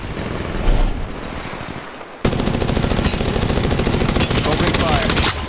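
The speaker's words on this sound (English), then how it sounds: "Opening fire." Automatic weapon fire in the mobile shooter Apex Legends Mobile, a loud rapid burst, a short pause, then a long sustained stream of close shots, with game voice lines underneath.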